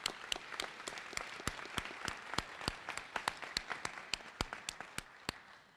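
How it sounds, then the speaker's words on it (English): Audience at a winter nursing pinning ceremony applauding, a steady run of distinct, fairly sparse claps that holds across the whole stretch at moderate volume, with no talk over it. "could we please just acknowledge them, give them a round of applause?"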